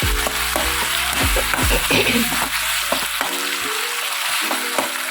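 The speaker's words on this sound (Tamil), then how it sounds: "நல்லா வதங்கட்டும்" Ingredients sauté in a hot pan, likely for a creamy mushroom-style paste with cashews and dried chillies, giving a steady sizzle and frying hiss with repeated scraping stirs up close.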